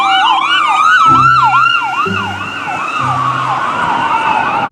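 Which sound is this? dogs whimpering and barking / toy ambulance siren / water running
toy ambulance siren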